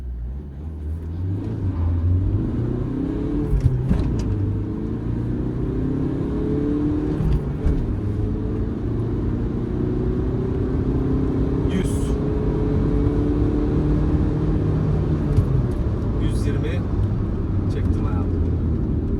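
A Hyundai Getz 1.5 CRDi VGT diesel hatchback's engine hums and climbs through revs as it pulls away, steady and close, with someone talking over it.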